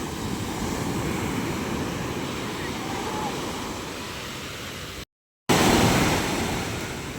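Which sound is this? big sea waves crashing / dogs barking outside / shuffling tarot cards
big sea waves crashing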